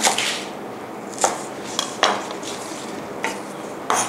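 A few light clinks and scrapes of a utensil tossing spring onions into a squid and black pepper stir-fry in a pan, spaced irregularly, with a quiet background hiss and no talking.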